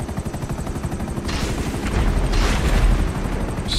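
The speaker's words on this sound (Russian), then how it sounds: "пошла ракета" Rapid mechanical rattling gives way to a loud rushing roar and heavy rumbling blast, like a rocket launching and exploding in GTA 5 Online.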